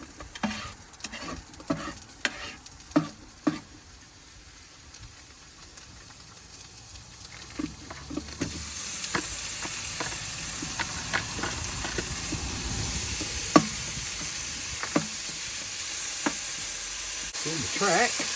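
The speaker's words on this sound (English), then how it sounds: "So while that chicken and onions is cooking," Chicken and onions fry in a pan at a Cornwall campsite, a close sizzle broken by repeated clicks and scrapes of stirring that gets louder and fuller about halfway through.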